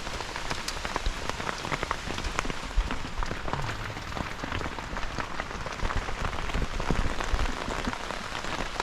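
Steady rain falls on a tent and canopy at an overlanding camp in the Ozarks, a dense, even patter of drops close by with occasional louder splashes and no one talking.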